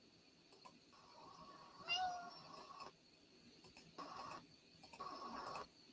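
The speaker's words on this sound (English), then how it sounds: "there's my dang cat" A house cat meows faintly a few times indoors, the calls brief and mixed with small clicks and rustles in a quiet room.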